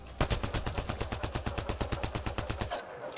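Rapid automatic turret fire in Mass Effect Andromeda, about twenty evenly spaced loud shots in a steady rhythm that cuts off abruptly near the end, with no voices.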